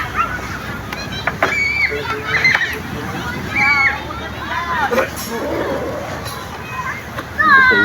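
Water sloshes and splashes in a leaking wooden boat, low and rough under a constant hubbub of voices with children and adults talking nearby.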